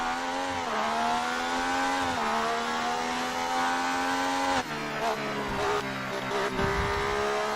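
Formula 1 car in the F1 2018 video game, its engine a loud continuous whine that rises and falls with gear shifts, with tire noise and a chicane braking dip partway through.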